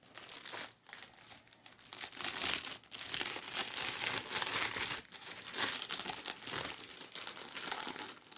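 Plastic wrapping around a vintage yard-sale item crinkles and crackles up close as it is handled, in irregular bursts of rustling with brief pauses, no voices.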